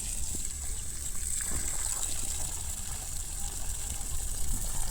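Water gushes steadily onto plants on a farm plot, a continuous rushing stream close by, with a constant hiss of nearby road traffic underneath.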